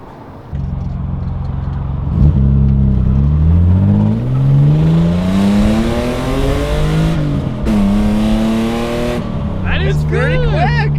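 A BMW E28 M5 pulls away and accelerates from inside the cabin, engine note climbing through rising revs with gear changes, loud and close, then settling into a steady cruise hum.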